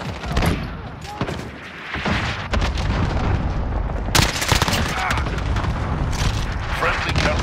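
Heavy gunfire and booming explosions from a cluster strike in Call of Duty: Modern Warfare, dense and continuous with bursts and loud impacts throughout, mixed with in-game voice callouts.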